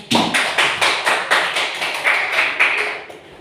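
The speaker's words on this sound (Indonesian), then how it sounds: "Beri tepuk tangan untuk semuanya." A small group in a classroom gives a short burst of applause, about a dozen claps in a fairly even rhythm, close and loud, fading out after a few seconds with no talking.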